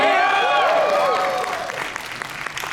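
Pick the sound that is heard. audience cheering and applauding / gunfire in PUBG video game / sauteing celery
audience cheering and applauding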